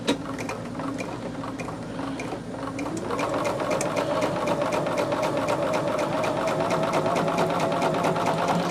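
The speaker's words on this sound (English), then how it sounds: "fold over top edge and sew a running stitch, pull thread together" A sewing machine runs a long running stitch, set to length 5, along the folded top edge of fabric for a mini scarecrow. A close, steady rhythmic whir and needle clatter speeds up partway through and holds.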